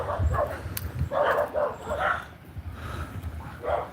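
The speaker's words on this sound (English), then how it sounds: "I know them dogs are there, so I should have been a bit better prepared." Several dogs yapping and barking in short repeated bursts at mid distance during an outdoor walk, the calls coming in irregular clusters over light background noise.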